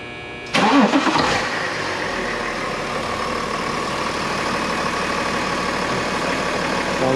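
A 2010 BMW X5 diesel cranks and fires up close by, with a sharp burst as it catches, then settles into a steady, even idle that runs on alone.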